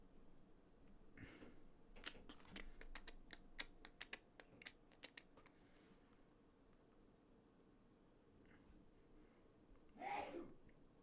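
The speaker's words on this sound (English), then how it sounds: "That was a sneeze." A short, soft sneeze sounds near the end of a quiet stretch in the Space Quest II video game, after a run of sharp clicky taps, faint and isolated.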